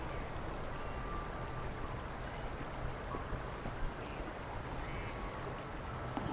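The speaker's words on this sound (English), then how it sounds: "it is pouring like a son of a bitch" Heavy rain pours in a steady, dense hiss with no breaks, moderately loud and close throughout, with nothing else standing out.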